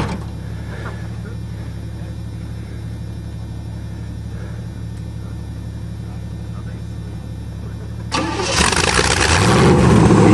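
A carbureted Cheviac V8 cranks over with a steady rhythmic starter churn before catching and bursting into a loud, rough idle, with people talking quietly in the background.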